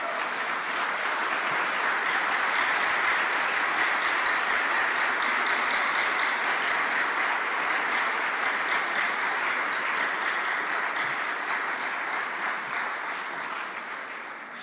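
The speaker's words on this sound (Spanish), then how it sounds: "Dale fuerte el aplauso al Señor" Church congregation applauding, a dense, steady wash of many hands clapping together for several seconds, loud and even before gradually fading at the end.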